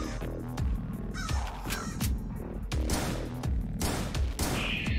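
Harsh bird caws repeat over a dense, loud mix of game music and rapid gunfire-like bursts in a volcano level of a video game, with no talk.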